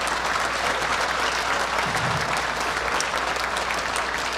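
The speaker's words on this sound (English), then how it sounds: "Another round of applause for our Board of Directors." An audience at a sports hall of fame induction banquet applauds the board of directors, a steady, dense wash of clapping from a large crowd that holds evenly throughout.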